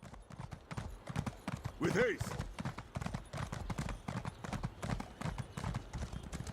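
A horse's hooves clip-clop in a steady rhythmic gait in the Elder Scrolls Online video game, with a brief whinny near the start and a person talking over it.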